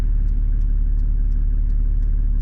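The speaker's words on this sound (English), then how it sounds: "It's nice and quiet at idle." A Toyota Landcruiser 1HZ turbo diesel idles with a deep, even chug, a strong low rumble pulsing at a regular pace, and faint sharp ticks repeating about three times a second.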